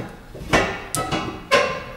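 Hammer strikes tacking down a four-inch metal strip on a basket for a Yamaha Big Bear ATV, three sharp close knocks within two seconds, each with a brief ring.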